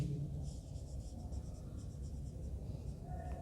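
A pen scratches steadily across paper as an accounting journal entry narration is written by hand, a soft continuous scribble over a low room hum with no pauses.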